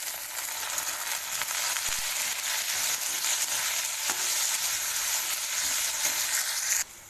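Chopped onions and tomatoes fry in a pan for ghugni, a steady broadband sizzle that stays loud and even, with faint stirring clicks, then drops off abruptly near the end.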